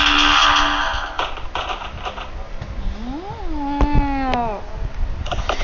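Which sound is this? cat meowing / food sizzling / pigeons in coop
cat meowing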